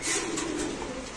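Pigeons coo softly at a pigeon market, a brief, low burbling call heard close by against a light background murmur.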